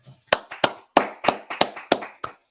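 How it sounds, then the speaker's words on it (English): A small group claps in sharp, separate bursts, about nine uneven claps over a couple of seconds, close and fairly loud with brief gaps between them. "All right, clap it up."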